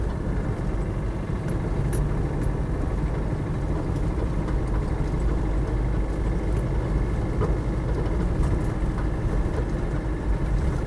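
Land Rover Defender 110 300TDi diesel cruising in fifth gear, a steady low engine drone with road and tyre rumble heard from inside the cabin, constant and unbroken.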